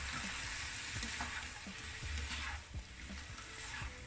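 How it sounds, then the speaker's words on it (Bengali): Onions and capsicum stir-fry in a pan for a Chinese vegetable curry, giving a continuous sizzle with soft scraping and stirring from the spatula. No one speaks. "দিয়ে আমি অনবরত বারবার নাড়াচাড়া করে এটাকে একটু রান্না করে নিচ্ছি বা কষিয়ে নিচ্ছি।"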